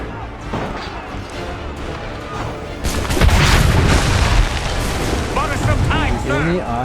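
Cannon fire during a battle against redcoats in Assassin's Creed 3, with loud booming blasts and rumbling crashes building midway, mixed with game noise and a voice talking over the action.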